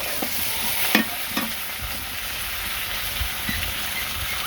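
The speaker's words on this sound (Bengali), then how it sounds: "দিয়ে দিলাম ভেজে নিই" Vegetables with potato, drumstick and green chilies frying in a pan: a dense, loud sizzle broken by several dull stirring knocks and scrapes, close up, with no talking.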